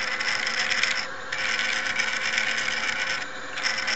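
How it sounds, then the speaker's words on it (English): A 3D printer's extruder stepper motor, driven from the X-axis driver, running smoothly with a steady high whine and hum and two brief dips as it changes movement. "now I've switched the extruder motor to using the X-axis, and you can see how smooth it is"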